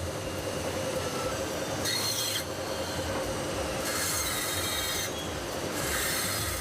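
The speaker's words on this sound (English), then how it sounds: "they are easily separated by a metal saw" A metal saw cuts apart co-joined water taps in a factory, making a continuous loud rasping grind with periodic brighter strokes under steady machinery noise.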